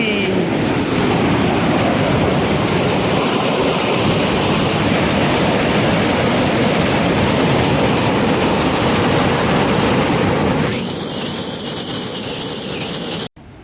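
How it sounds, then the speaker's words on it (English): A waterfall on Don Det island roars as a loud, steady rush of water close by, constant throughout and easing slightly toward the end. "this is the next waterfall down here"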